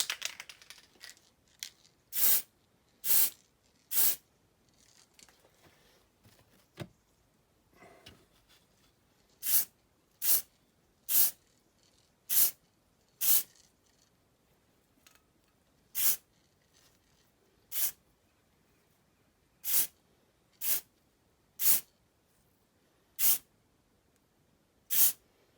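Aerosol spray can applying a first coat of ivory silk paint to a diecast Dinky No. 253 Daimler ambulance during restoration, heard as a series of short, sharp hissing bursts at irregular intervals, close and fairly loud, with quiet gaps between.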